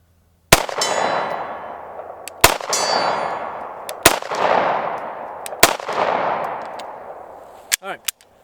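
Four sharp pistol shots from a Walther PDP F-series, each followed by a long bright ring from steel targets that slowly fades, then two quicker closing shots.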